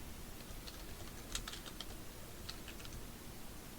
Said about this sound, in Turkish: daha sonra arama bölümüne Google Chrome yazıyoruz